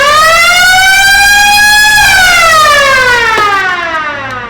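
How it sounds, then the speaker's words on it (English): Warning buzzer at the entry of a haunted warehouse attraction blares loudly, a rising then slowly falling siren-like wail held for several seconds before tapering off, with no talk over it. "we always have the warning buzzer."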